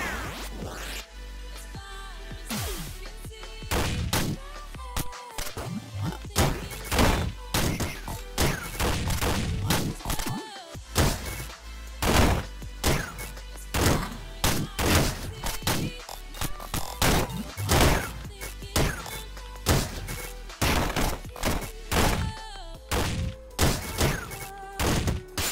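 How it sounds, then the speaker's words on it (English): Shotgun fire in the video game Downwell, rapid bursts of punchy blasts in clusters, repeating over and over, loud and close with brief gaps between volleys. "The shotgun is absolutely brutal right now"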